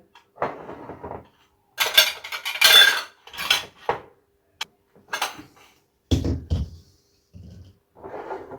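Glass jars of tomato and hot pepper pickle being twisted and turned upside down to vacuum-seal their lids, giving separate clinks and knocks of glass and metal caps with short quiet gaps between.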